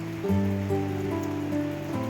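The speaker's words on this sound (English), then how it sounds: "And it's still raining out." Rain falls outside at an 18th-century-style market fair, a soft steady wash beneath sustained musical tones, with no break.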